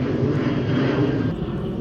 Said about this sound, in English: I hope you can still hear me with the plane going overhead